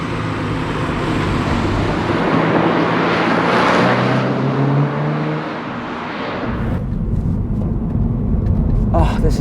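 A 2022 Subaru BRZ on Michelin Pilot Sport 4S tires driving through tight turns: steady engine drone and road roar from inside the car, rising in pitch as it revs, then a short shift and a drop in tone.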